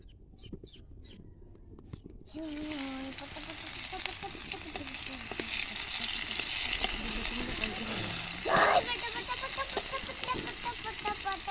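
Food fries in hot oil, a steady close sizzle swelling as it goes in and crackling on, with a brief splash of stirring near the end and soft voices at the start.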